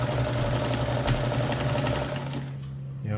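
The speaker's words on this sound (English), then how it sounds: "We're going to start by just sewing a straight stitch, but it's going to lay down 3 stitches for every stitch position." A Kenmore 158.1400 sewing machine running a straight stretch stitch, with a loud, steady mechanical hum and rapid rhythmic needle clatter up close, slowing and stopping near the end.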